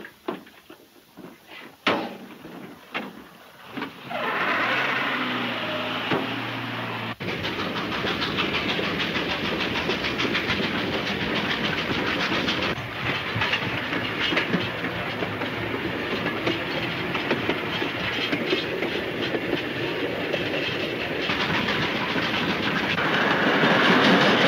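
Train running on rails as an old radio drama sound effect: a few knocks and clatters at the start, then a steady loud rumble with rhythmic clickety-clack of wheels continuing throughout, no voices.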